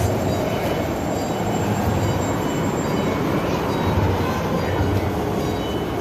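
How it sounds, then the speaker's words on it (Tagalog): Amusement park choo-choo train at Galaxyland in West Edmonton Mall, a loud steady rumble of wheels and cars rolling close by in a large indoor space, with faint background voices. "there's the choo-choo train"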